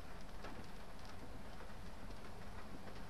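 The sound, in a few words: rain heard from inside a car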